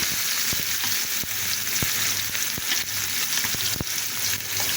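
Onion and green chili sizzling in hot oil in a pan alongside fried red poya sea fish, a steady close fry with crackling and a few sharp pops, no voices.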